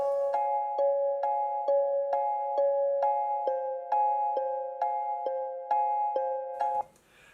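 A bright, bell-like synth piano plays a steady run of repeated chords with sharp attacks, evenly spaced, ending abruptly after about seven seconds.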